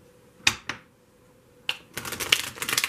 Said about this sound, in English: i'm going to start shuffling the other deck